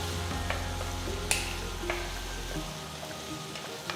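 Steady sizzling of crushed garlic and curry leaves frying with onions in a pan, with a few scraping stirs and light pops over a constant crackle.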